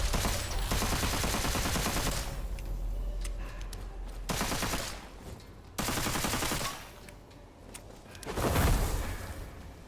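Pistol gunfire in the video game Witchfire, bursts of rapid shots under a loud, dense game mix with sudden cuts and a heavy boom near the end.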